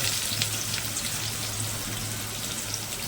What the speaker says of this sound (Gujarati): કાંદાને બરાબર ફ્રાય કરી લેવો આપણે